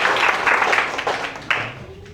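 Live audience applause at the Dubai Cares exhibition at Expo 2020, a brief spell of clapping that swells, dips and fades within a couple of seconds in a large, reverberant hall.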